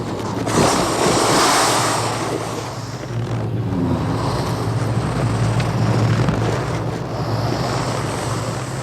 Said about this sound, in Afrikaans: Waar kom al hierdie water vandaan?